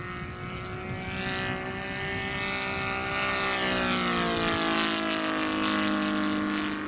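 A Saito 60cc petrol engine drives a Top Flite P-47 Thunderboltalt RC model plane, droning steadily with layered propeller harmonics that rise in pitch midway and hold loud and close throughout, with no talk.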